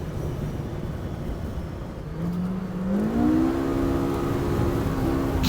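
A Polaris RZR Pro R 4 side-by-side is held at full throttle, its engine note swelling into a loud, steady roar that rises in pitch midway and stays high.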